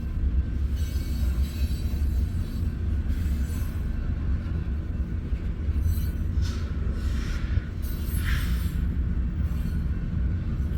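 A Union Pacific westbound freight rolls past steadily on the former CNW main at Fremont, Nebraska, a continuous loud rumble of railcars with brief wheel squeal near the end.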